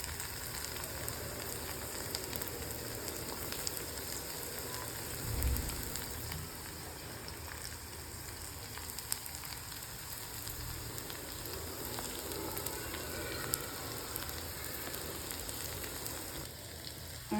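Okra being sautéed in a pan with a little salt and crushed peanuts, a soft continuous sizzle at low level with faint crackles throughout and no talking.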